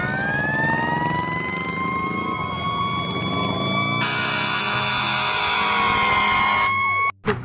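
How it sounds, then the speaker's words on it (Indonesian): Loud wailing siren with rising and falling electronic tones, a toy fire truck's alarm sounding continuously and close, cutting off sharply near the end. "Di sini ada mobil pemadam kebakaran."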